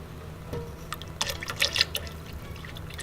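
Melted clarified butter is poured steadily from a pan into a container, giving soft trickling and dripping liquid sounds that build in the middle and then fade, heard close up with no speech.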